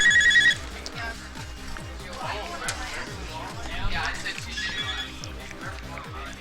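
A phone rings loudly for a brief moment at the start, then gives way to a busy room of overlapping chatter over a steady rhythmic background.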